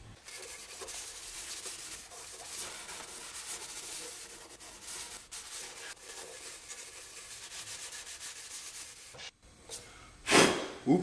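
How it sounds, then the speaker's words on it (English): A red Scotch-Brite pad scuffs the painted engine bay of a BMW E30 with continuous, close, rasping strokes that end with a few louder handling knocks. "I'm gonna come in with this red scotch pad and scuff this whole bottom pad out"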